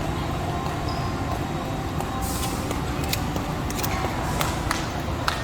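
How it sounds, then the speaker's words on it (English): Interior rumble of the Skylink automated airport train at DFW Airport, a steady low hum of the moving car with faint higher rattles and hisses throughout, no talking. "They will make that announcement while I'm on the train, and this train will go from here to here."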